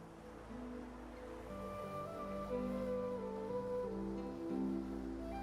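Gentle ocean waves lapping in the fantasy RPG Divinity: Original Sin II, a steady soft wash under a calm, sustained musical score with no talking.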